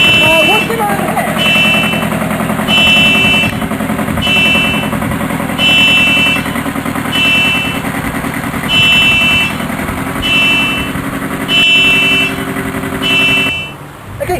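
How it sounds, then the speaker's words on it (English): A car alarm goes off nearby, sounding as a loud repeating electronic tone in regular pulses about every second, continuing throughout with background noise and some talk from people present. "Someone's car alarm's going off, isn't it, Elliot?"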